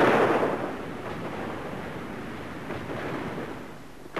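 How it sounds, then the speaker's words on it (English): A sixteenth-century English artillery barrage against the besieged promontory fort of Smerwick, heard as a dense, rumbling roar of distant cannon fire that starts loud and rolls on without letup. "Faced with an English artillery barrage, the invaders soon laid down their arms."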